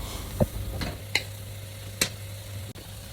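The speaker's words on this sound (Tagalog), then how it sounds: "Tapos nung nagmantika na, ilagay na natin yung sibuyas. Tapos haluin, tapos garlic." Onion and garlic sautéing in oil for spaghetti, stirred with a few distinct scraping clacks of a spoon against the pan over a steady low sizzle, close up and with no talking.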